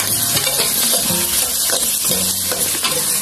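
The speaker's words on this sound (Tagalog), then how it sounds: "Ating binigisa." Onion and garlic sautéing in a pan for adobo, a loud continuous sizzle close up, with a spatula stirring and scraping through it and no one speaking.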